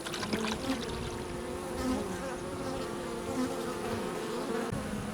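Honeybees in a newly split hive fed to help them draw out comb, a steady close droning buzz with individual bees swelling past, no talking.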